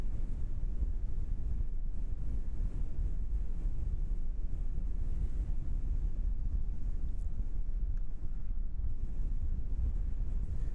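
Strong, steady wind at Christchurch Airport in New Zealand on a windy evening roars and buffets the microphone without a break, a loud low rumble that fills the whole stretch, with no talk.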